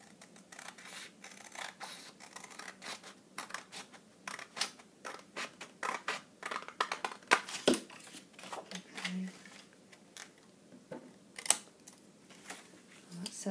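Paper being cut with scissors along score lines, close up: a quick, irregular run of sharp snips and crisp clicks that continues throughout, with some louder cuts standing out.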